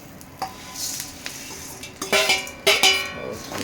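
Puffed rice is tipped into a hot pan and stirred with a utensil, giving close scraping and rustling strokes with light sizzle and a few metallic knocks against the pan, growing busier toward the end.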